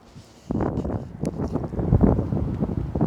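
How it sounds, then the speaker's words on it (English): Gusty wind buffets the microphone in rough, uneven bursts outdoors, loud and close. "So it's a little windy today."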